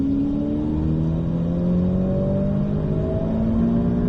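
A race car engine at Circuit de Bresse holds a light, steady touch of throttle. A loud, even drone rises slowly in pitch and continues without a break for about four seconds, with no voices.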